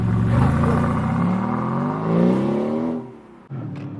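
Aston Martin DB11 Volante V8 loudly accelerating up close, engine pitch climbing steadily through a rev sweep before dropping off sharply near the end, then a brief resumed growl.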